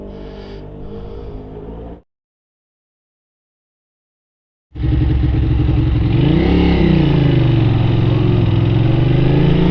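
A Ducati 600 Supersport motorcycle engine idles loudly up close, cuts to silence for a few seconds, then returns with a throaty rev that rises and falls before settling into a steady loud idle.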